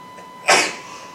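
A single abrupt sneeze bursts out in a quiet classroom-style room during a math lesson, sharp and fairly loud, then fades quickly against a faint steady background hum.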